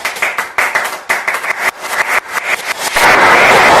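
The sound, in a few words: audience applause for Jordan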